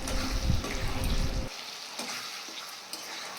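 Paneer being stirred into a chilli gravy in a pan: a bubbling, sizzling wash for the first second and a half, then quieter with scattered spoon clicks against the pan, close up and no talking.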